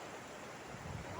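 Strong river current in a rural province, a steady low rushing wash of water with broadband noise, continuous and fairly close for about a second, no voices.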